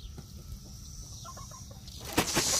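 Chickens in a backyard flock, newly joined by four roosters, cluck softly in short scattered calls, followed by a louder burst of flapping wings near the end.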